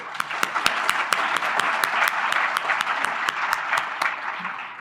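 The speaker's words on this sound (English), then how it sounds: "we also have to give a round of applause to the Marriott for hosting us" Audience at a conference close-out applauding the hotel hosts, a steady round of clapping with sharp individual claps standing out, moderately loud and continuous.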